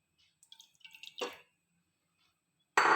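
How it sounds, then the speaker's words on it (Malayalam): Water is poured into a cooking pan to start sugar syrup: a few light drips and small splashes come first, then after a pause a loud, close gush of pouring water starts abruptly at the end. "ഇനി നമുക്ക് ഷുഗർ സിറപ്പ് ഉണ്ടാക്കാം. നമുക്ക് കുറച്ച് വെള്ളം ഒഴിക്കാം."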